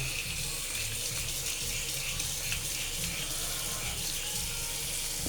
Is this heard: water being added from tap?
yes